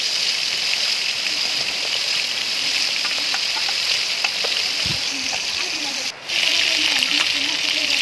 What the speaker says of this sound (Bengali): মাছগুলো আমার ভাজা হয়ে এসেছে